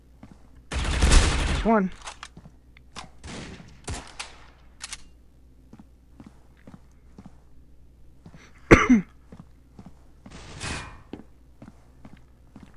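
AUG rifle fire in the mobile shooter Critical Ops comes in a few short, sharp bursts spread out over quiet stretches, with a player speaking briefly between shots.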